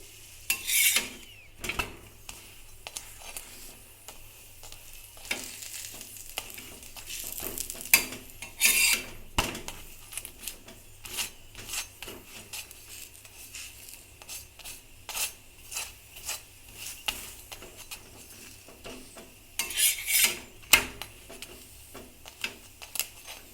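A paratha fries in a little oil in a pan while being stirred and scraped, giving soft sizzling under repeated rasping utensil strokes against the metal, close and irregular, with no one talking.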